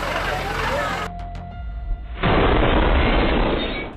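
A fireworks explosion goes off as one sudden loud boom that fills the sound with a dense, crackling roar after a brief lull of quieter noise.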